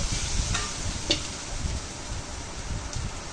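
Carrot fry being stirred in a pan, with a steady soft sizzle and occasional scraping clicks of the spoon, close and even throughout.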